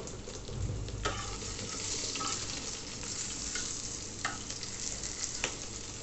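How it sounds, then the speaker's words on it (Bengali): Pointed gourd (potol) frying in a pan on low heat: a soft, steady sizzle with occasional light clicks and scrapes as pieces are turned, no voices. "খুবই অল্প আঁচে ভেজে নেব।"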